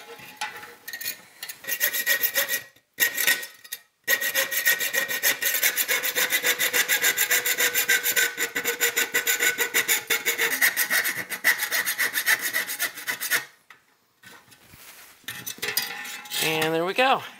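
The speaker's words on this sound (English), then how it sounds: "So, time to get back to sawing." A hand saw rasps back and forth cutting a socket hole in a chassis for a tube amplifier, rapid steady strokes with brief pauses, up close and loud.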